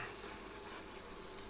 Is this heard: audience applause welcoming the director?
no